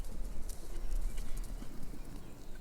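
Horses clip-clopping, their hooves beating a steady, continuous rhythm over a low rumble, moderately close, with no voices.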